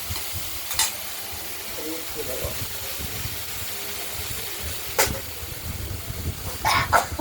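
Thin pumpkin strips frying in oil with mustard seeds in a kadai, giving a constant soft sizzle with a few sharp spatula scrapes scattered through, close and moderately quiet; faint voices are heard in the background.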